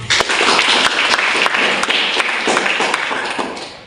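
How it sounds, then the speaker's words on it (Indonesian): An audience at a church youth talk bursts into dense, loud clapping that stays strong for a few seconds, then gradually thins out and fades. "Tepuk tangan."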